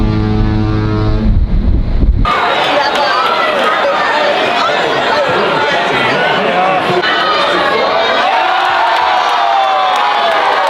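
A crowd aboard a Norwegian Breakaway cruise ship roars and cheers as a Kansas City Chiefs game-winning field goal is watched on a big screen, a loud sustained wash of voices with wind buffeting the microphone, following a low foghorn-like tone at the start.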